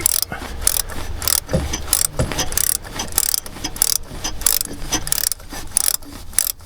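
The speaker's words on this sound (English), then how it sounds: "I'll tighten everything up with the nut runner" A nut runner tightens nuts on a Ford Ranger Wildtrak 3.2 turbo after a turbo gasket failure, giving loud, close bursts of rapid ratcheting clatter that start and stop repeatedly without speech.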